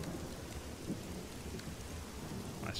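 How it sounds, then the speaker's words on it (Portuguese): Heavy rain from a thunderstorm in the Lords of the Fallen video game hisses continuously, with a low rumble of thunder beneath it, the whole scene faint and steady and without talk. "Chuva feia, hein?"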